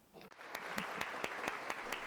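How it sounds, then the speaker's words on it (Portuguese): Rafael and the theatre cast clap together at the close of a stage scene, a dense, steady round of applause with sharper individual claps standing out at a regular rhythm, moderately loud and close. "Rafael e todos da cena batem palmas."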